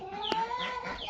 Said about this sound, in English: I hear a chirping.